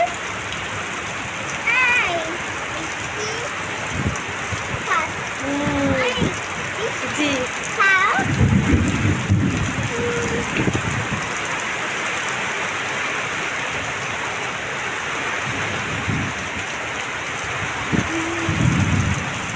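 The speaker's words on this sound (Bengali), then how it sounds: "খুব বৃষ্টি হচ্ছে তো" Heavy rain in a thunderstorm with lightning, a constant dense patter of rain with low rumbles of thunder rolling in now and then, while people talk intermittently over it.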